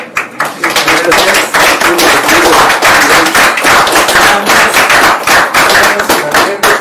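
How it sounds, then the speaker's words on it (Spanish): An audience at a film talk at Cinema Nahual bursts into loud, close, sustained clapping, dense and steady throughout with individual hand claps standing out. "Un aplauso."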